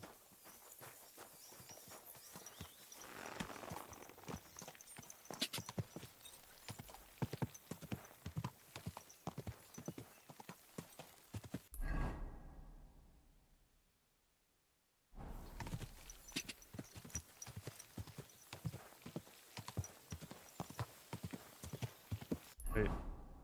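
Horse hooves clip-clop in steady rhythm through most of the stretch in the video game Kingdom Come Deliverance 2, briefly stopping mid-way before resuming, with an occasional whinny and someone talking over it.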